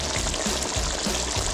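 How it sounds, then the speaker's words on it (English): Cassareep chicken stew simmering on low heat, a soft continuous bubbling and gentle sizzle with faint low pops, steady and close. "I turned the heat down low, so it's simmering right now"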